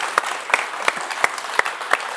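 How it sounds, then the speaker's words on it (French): Studio audience at a French TV entertainment show claps in a steady, evenly spaced rhythm, about six sharp distinct claps over two seconds, fairly close and with no talking. "S'il vous plaît, applaudissons Patrick."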